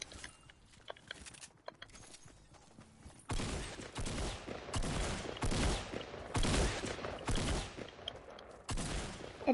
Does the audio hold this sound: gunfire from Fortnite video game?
yes